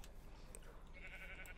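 A Minecraft sheep gives a faint, short bleat that stands out only briefly over a low, steady game background.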